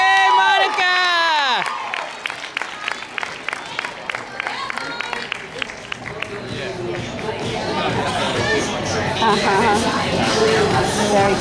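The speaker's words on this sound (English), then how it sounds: "Ladies and gentlemen, please, a big round of applause for our award winners on the vault" Crowd at a college gymnastics championship: a announcer's voice first, then a run of sharp individual claps that swell into loud, sustained cheering and applause with whoops and chatter.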